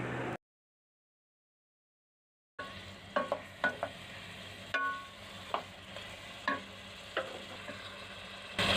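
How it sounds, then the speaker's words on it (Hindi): Chicken pieces frying with tomatoes in a kadai for a dhaba-style chicken curry: a short silence gives way to steady close sizzling, punctuated by sharp scrapes of a spoon stirring against the metal. "और हम जो चिकन हमने फ्राई किया था उसको इसमें डाल देंगे। अब हमें इसे अच्छे से भून लेना है।"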